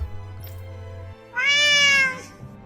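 A voice imitates a cat's meow in the video game Tales of Arise, giving one drawn-out, nasal meow after a low background hum.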